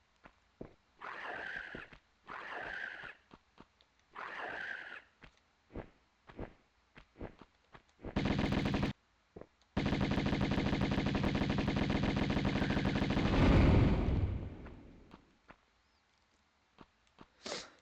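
Uzi fire in Tomb Raider (1996) comes in several short, loud rattling bursts, then two long sustained streams of rapid shots, interspersed with sharp single clicks and brief gaps of near silence.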